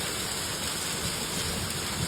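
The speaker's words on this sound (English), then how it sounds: "that is some wicked hail" A hailstorm pours down in a dense, loud, unbroken roar of pelting impacts close by, steady throughout with no voices.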